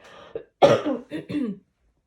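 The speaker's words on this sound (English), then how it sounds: "Have to cough, sorry." A person coughs a few times in quick succession, close and clear, with short rough bursts.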